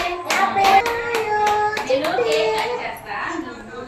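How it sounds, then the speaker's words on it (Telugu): Hands clapping at a child's birthday at home, a run of quick claps mixed with children's and adults' voices talking over them, close and fairly loud. "గోపి ఝాన్సీ చప్పట్లు కొట్టాలి"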